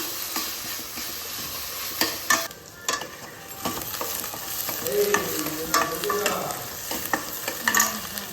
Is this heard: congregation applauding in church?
no